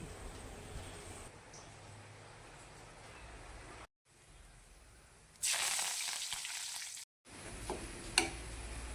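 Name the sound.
fenugreek and curry leaves spluttering in hot oil for tempering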